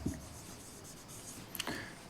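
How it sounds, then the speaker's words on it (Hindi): Chalk or marker scratching across a classroom board while a sentence is written, with soft faint strokes and a brief sharper squeak near the end, no talking. "एक सेंटेंस और लिखते हैं"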